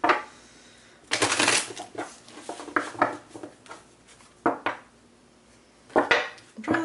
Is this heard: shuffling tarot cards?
yes